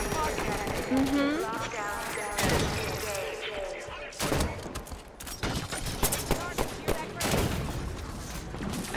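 Scattered gunfire bursts and impacts in a Halo 5: Guardians firefight, irregular shots breaking through steady talking and game chatter.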